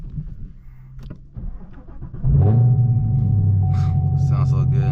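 A manual Chevrolet Camaro ZL1 starting up in Chicago, quiet rustling and a voice giving way to a sudden deep V8 rumble that settles into a loud, steady idle close by.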